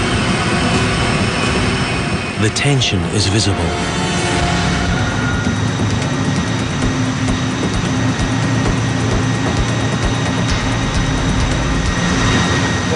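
A brand-new container ship engine running under a 110% load overload test gives off a loud, steady, broadband roar that never lets up, with a brief spoken remark early on.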